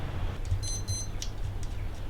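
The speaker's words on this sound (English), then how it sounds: "Oh, the old Casio beeped." An old Casio digital watch gives two short, high-pitched beeps in quick succession, faint against a steady low hum.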